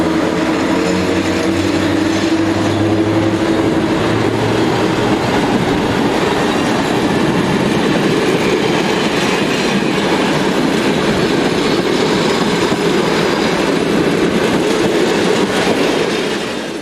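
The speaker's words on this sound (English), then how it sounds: "Polish-built EU07 525 heading a Warsaw to Gdynia service" A Polish-built EU07 electric locomotive hauls a Warsaw to Gdynia passenger service past the listener as a loud, steady rail roar with rolling clickety-clack and faint wheel squeal, and no voices are heard over it.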